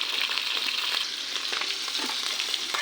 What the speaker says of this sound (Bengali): তেলের মধ্যে ইচা মাছ কাটা দিয়ে দিচ্ছি